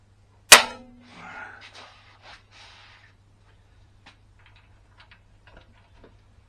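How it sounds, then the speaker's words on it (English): A single sharp metallic snap of a rivet being set in intercooler sheet metal, followed by faint rustling and scattered light clicks of handling. "Just get a rivet in this."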